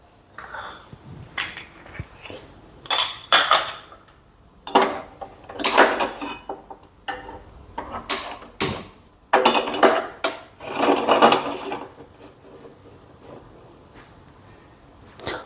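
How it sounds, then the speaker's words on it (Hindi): An iron cooking pan and utensils clank and scrape in a kitchen while ghee is being prepared, with a series of sharp metallic knocks and rattles in irregular bursts, fairly close and loud, with no talking. "हम लोहे का बर्तन ले रहे हैं"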